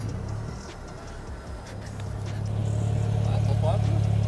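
A Toyota Yaris GR hybrid's engine starts up close by, a low steady rumbling hum that swells louder in the second half, with a brief voice over it.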